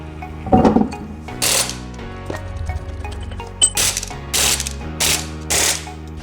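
A wheel is installed on a Mercedes CLS55 AMG with an impact tool: short, loud mechanical rattling bursts come in a spaced series, close up, with clicks and clanks between them.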